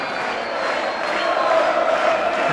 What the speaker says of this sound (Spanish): El aplauso y el reconocimiento para el nuevo campeón